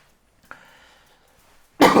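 A single sharp cough bursts out loudly near the end, preceded by a brief faint throat noise and quiet room tone.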